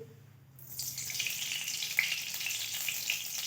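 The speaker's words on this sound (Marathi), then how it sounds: "कढई तापायला ठेवली आपण टाकूया पहिले तेल" Oil poured into a heated kadhai for a greens bhaji, a sudden loud sizzle and hiss rising after a quiet start and continuing steadily close by.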